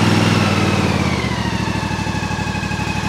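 A zero-turn lawn mower engine idles close by at low throttle, a steady loud mid-pitched drone with a fast, even pulsing chug and no voices.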